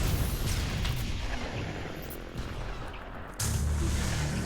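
Defensive towers in the video game Sanctum set off a steady barrage of booming explosions, dense and loud, rolling together with a heavier burst near the end.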